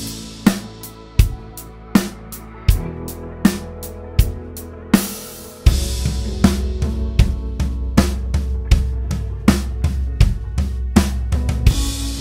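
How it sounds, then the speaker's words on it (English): Drum kit groove with the dominant hand moved from the hi-hat to the floor tom, giving steady booming tom hits over kick and snare; loud, close and rhythmic, with no talking. "if you play the same beat on the hi-hat and then move that dominant hand to the floor tom,"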